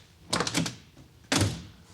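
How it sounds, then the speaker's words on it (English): The door of a 1938 Packard Club Coupe opens with a short rattling clack and then shuts with a single solid thunk a second later, close and fairly quiet, with no talk. "I like the way the door opens and shuts. Just the minimum of pressure shuts that door"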